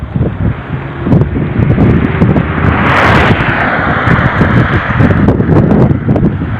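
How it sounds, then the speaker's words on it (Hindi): Strong wind blowing outdoors in Muzaffarabad, Kashmir, buffeting the microphone in loud, gusting roars that swell and ease over several seconds, with no voices. "बहुत अच्छा हवा चल रहा है यहाँ पे"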